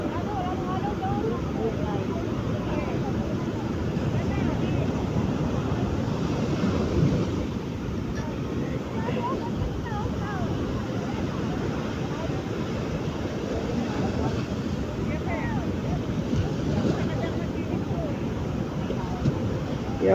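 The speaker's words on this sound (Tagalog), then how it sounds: "Nalagapak po talaga ang mga alon." Sea waves churn and slap against a small boat in a dense, continuous rush of low roaring noise, with wind buffeting the microphone throughout and no clear voices.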